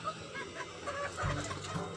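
A chicken clucking close by in a few short, soft calls over low background noise, with a brief louder call near the end.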